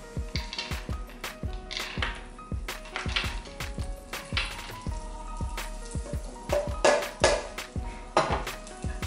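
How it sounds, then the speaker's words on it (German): Pine nuts rattle and scrape in a metal pan as they toast, with repeated clinks of a utensil stirring and a faint sizzle underneath. "die Pinienkerne kommen jetzt hier in die Pfanne rein."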